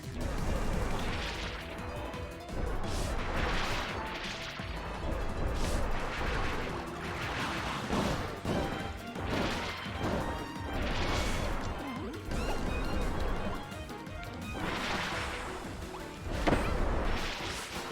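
Explosions fill a boss fight in Kirby's True Arena, a continuous barrage of loud crashing blasts and whooshes that repeat every second or so over game music.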